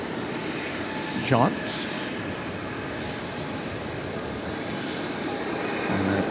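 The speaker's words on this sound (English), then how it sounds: "Got an American Eagle flight coming in from Lawton, Oklahoma." American Eagle CRJ-701ER regional jet arriving at DFW Airport from Lawton, Oklahoma, its engine a steady broad roar running throughout, with a brief voice near the start and a slight swell toward the end.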